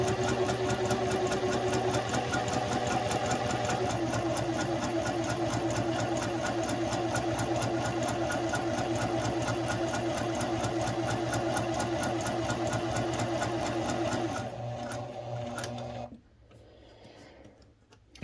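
A sewing machine runs steadily while stitching a sample at a short stitch length, a fast even mechanical rattle that holds loud and close for about fifteen seconds, then slows and stops, leaving near quiet.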